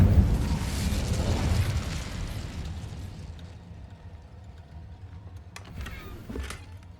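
The Incendio fire spell in Hogwarts Legacy goes off as a loud, roaring burst that fades steadily over several seconds, followed by a few fainter crackles and pops.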